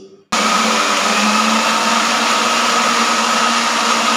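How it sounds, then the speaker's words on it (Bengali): Electric mixer grinder blending watermelon pulp for juice, switching on abruptly after a brief quiet moment and then running at a loud, steady, high-pitched whir without pause. "এবারে আমি এটা মিক্সিতে ঘুরিয়ে নিচ্ছি"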